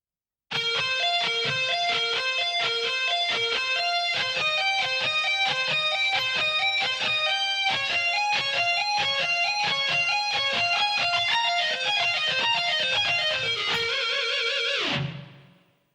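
A distorted electric guitar plays a steady run of notes from a solo at a slowed, moderate pace for about fifteen seconds, then cuts off abruptly.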